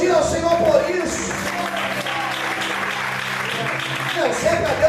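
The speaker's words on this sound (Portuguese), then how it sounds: "Você pode aplaudir ao Senhor por isso." A church congregation applauding in a continuous, moderately loud patter of many hands, mixed with voices and a sustained musical tone through the room.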